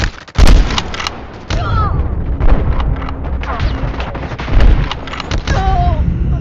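Assault rifle gunfire in a first-person shooter video game, with loud bursts and explosive cracks from several directions, mixed with game effects and someone talking over the action.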